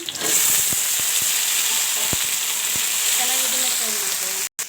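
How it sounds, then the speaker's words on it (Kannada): Onions and bitter gourd frying in seasoning for a bitter gourd gravy, giving a loud, continuous close sizzle with a few scattered stirring clicks and a brief break near the end. "ನೋಡಿ ಚೆನ್ನಾಗಿ ಫ್ರೈ ಆಗ್ತಾಯಿದೆ"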